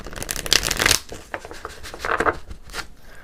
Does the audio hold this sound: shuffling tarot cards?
yes